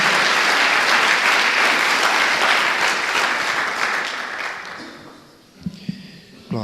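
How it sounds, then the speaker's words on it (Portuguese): A church congregation claps for the Lord in loud, sustained, dense applause that gradually thins and fades, with a few final isolated claps and faint sounds near the end. "Dê uma salva de palmas novamente ao Senhor"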